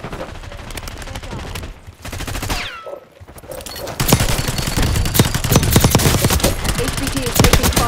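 Rapid automatic gunfire and bursts of shots crackle through a Call of Duty: Black Ops 6 online multiplayer match. The firing is dense and loud, with a brief lull near the middle and a heavier barrage in the second half. Game voice lines are heard alongside it.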